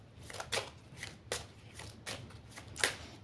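A few quick riffling bursts of playing cards being shuffled, soft papery flutters repeating roughly every half second to second, close by against a quiet room.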